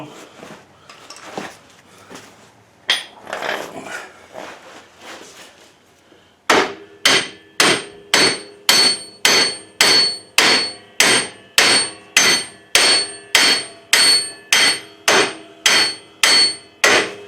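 After some faint clattering, a hammer strikes metal during an axle replacement in a fast, even series of loud, ringing blows, about a dozen and a half in a row.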